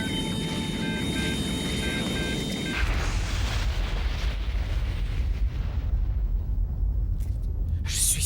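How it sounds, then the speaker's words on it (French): A loud, sustained rumbling roar with heavy low-end energy from a helicopter explosion, following a steady electronic tone that cuts out abruptly. "sûr que c'est une explosion."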